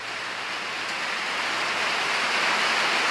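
Steady rain hisses close by, a dense wash of falling water that swells slightly louder over a few seconds, with no voices.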